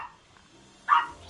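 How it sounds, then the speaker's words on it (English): A single short dog bark sounds near the end, after a moment of near silence, inside a Final Fantasy 14 Realm Reborn game. "My goodness, dog!"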